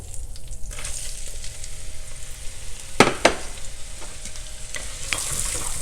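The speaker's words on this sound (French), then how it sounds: "Après avoir débarrassé la viande, on ajoute les oignons." Onions frying in meat cooking juices in a pan for carbonnade flamande, giving a steady loud crackling sizzle with a couple of sharp utensil scrapes near the middle, close up, with no speech.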